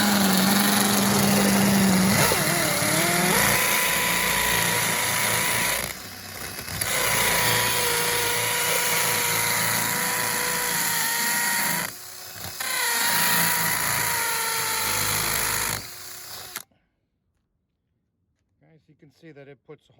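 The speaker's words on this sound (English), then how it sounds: "So this drill here, I'm going to use it to put a hole into concrete." A power drill bores into a solid block of concrete, running in loud sustained bursts with a steady whine and two brief pauses before stopping abruptly, then near silence with faint movement.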